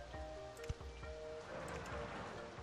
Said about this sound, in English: Oh god, it's raining now.